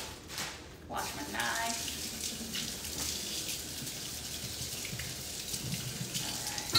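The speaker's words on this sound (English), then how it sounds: "So wash my hands." A kitchen tap runs steadily for hand washing while preparing shrimp ceviche, a soft continuous splashing stream close by with small clinks near the start, and no voices.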